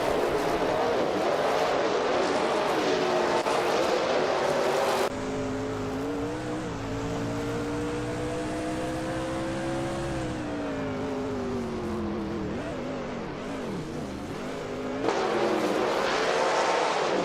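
Race cars in a racing video game, engines roaring loud and close with rising and falling pitch as they overtake, a sustained high whine in the middle and occasional tire squeal.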